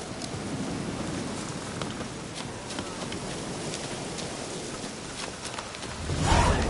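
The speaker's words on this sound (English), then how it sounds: "Looks like rain." Video game rain in The Witcher 3: Wild Hunt patters continuously, a soft even hiss with scattered drops, ending in a brief louder swell.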